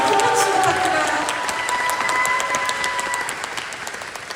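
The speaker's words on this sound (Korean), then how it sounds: "여러분 큰 박수 부탁드려요" A packed film-festival audience at a Q&A screening of the film Broker breaks into warm applause, with steady massed clapping and a little cheering that gradually fades.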